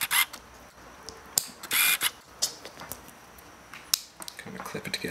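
Plastic backing of a small LED light being pressed and clipped together, giving a handful of sharp close-up clicks and snaps with brief rustling handling noise between them, and a voice talking faintly in the background.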